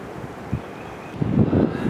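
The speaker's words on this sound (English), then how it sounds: "It's getting really windy" Strong outdoor wind buffets the microphone while a DJI Mavic Air 2S drone flies for a real estate shoot, a steady roar with gusts that grow louder toward the end.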